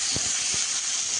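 Water poured into a hot pan of okra curry makes a loud, steady sizzling hiss, with a few low thumps at the start of the pour.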